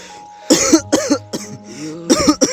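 A character in a Kazakh-language Minecraft comedy coughs several times in short bursts, loud and close, with brief pauses between the harsh barks and a final pair of coughs.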